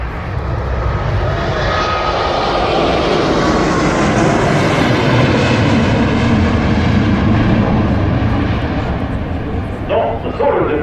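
An Airbus A350-1000 wide-body jet airliner roars through a steep takeoff at an air display, a loud, sustained broadband engine roar that holds steady throughout, with faint talk in the background.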